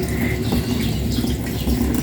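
Water being drained at home, a continuous close gushing and splashing rush that holds steady and fairly loud throughout, with no voices.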